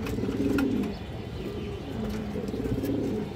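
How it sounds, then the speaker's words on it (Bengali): Large silver-necked female pigeon cooing in soft, repeated low throaty phrases, close and alone. "বড় সাইজের সিলভার গলা মাদি কবুতর"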